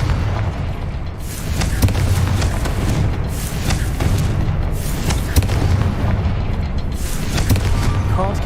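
A Confringo blasting spell in Hogwarts Legacy sets off loud, booming fire explosions that sustain as a dense rumbling roar for several seconds, with sharper bursts popping through.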